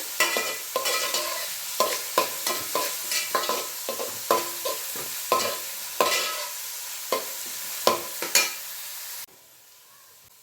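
Chopped onions fry in oil in a pan while being stirred, with repeated scraping strokes over a steady close sizzle that drops away near the end.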